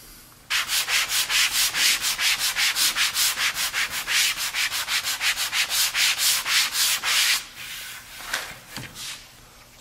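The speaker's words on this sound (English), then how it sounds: "So we're going to take a soft sanding sponge. We're going to sand our door" A soft sanding sponge rubs back and forth over a white-painted golden oak door, making a steady run of close, loud, rhythmic scratchy strokes that slow and break into scattered rubs near the end.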